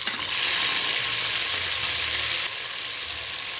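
Tomatoes hit hot oil in a frying pan for South Indian sambar rice, giving a loud, steady close-up sizzle with a faint stirring rumble underneath, no voices.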